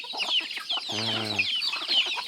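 A chicken gives one short harmonic cluck amid a busy background of chirping birds and clucking fowl, fairly close.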